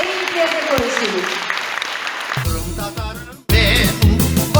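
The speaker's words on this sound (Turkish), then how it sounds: "Ona da çok alkışlar." Loud crowd applause for a performer at a Crimean Tatar stage performance, continuous clapping that swells after a brief dip, with a voice speaking over it.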